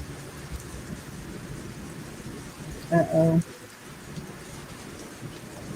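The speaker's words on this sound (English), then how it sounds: "I can hear the thunderstorms going on in the background" Steady rain hisses under a distant thunderstorm, and a low rumble runs beneath it. A brief spoken exclamation comes midway.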